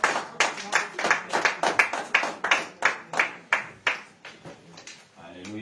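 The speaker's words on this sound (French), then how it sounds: "Acclame pour Jésus." A church congregation claps together in praise during a night prayer and fasting service, a steady run of sharp, fairly loud handclaps that thins out near the end.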